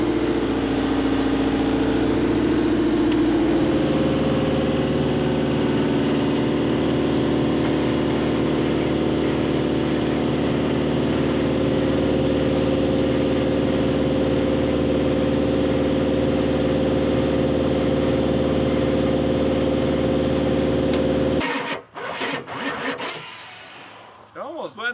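A Ford F550 Powerstroke diesel, started with a 4-cylinder CAT starter and ether, runs with a loud, steady rumble for about twenty seconds, then cuts out abruptly and is followed by some clattering.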